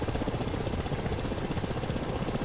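A Ka-50 Black Shark helicopter in the DCS flight simulator makes a steady rotor drone with a dense, continuous low thrum of blades and engine. It plays alone at a moderate level with no talk.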